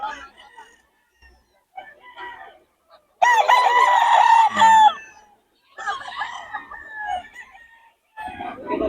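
Roosters at a fowl yard in Bocaue crow in one loud, sustained burst with scattered clucks before and after, and people talk nearby.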